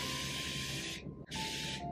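North Expert makeup setting spray mists onto a face in two sharp, close bursts of hiss separated by a brief pause, the second blast slightly shorter, with no speech.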